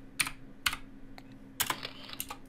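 Keys on a computer keyboard are tapped in short, irregular bursts of a few strokes each, close and clear over a low steady hum, with no speech.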